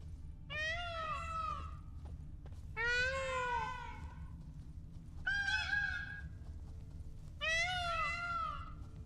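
Cat-like creatures in The Witcher 3 video game let out four separate drawn-out, wailing meows, each rising and falling in pitch, over a faint low background hum.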